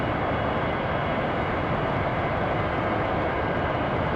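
A large airplane taxis along a runway in a flight video game, its engines giving a dense, steady roar that stays even and fills the whole stretch with no talking.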